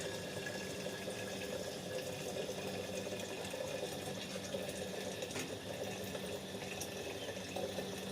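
Water runs steadily from a free public tap into a bottle, a constant moderate splashing and hiss with faint background noise and no talk.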